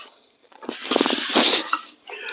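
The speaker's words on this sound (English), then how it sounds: "I'm going to pour off that extra water." Extra water is poured off from a cooking pot of stuffed-shells sauce, a brief rushing gush and splash lasting about a second, close and fairly loud, with a small trailing drip afterward.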